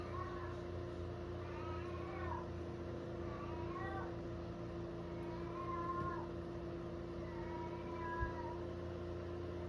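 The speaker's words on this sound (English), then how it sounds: "And if you hear yelling in the background, yes, that's my cat." A cat yowls repeatedly in the background, drawn-out rising and falling cries over a steady low hum.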